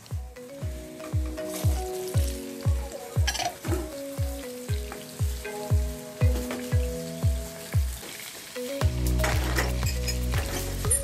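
Carrots frying in oil with browned potatoes in a pan for Filipino beef mechado, a steady loud sizzle with regular rhythmic stirring scrapes, then a denser burst of frying toward the end, no talk.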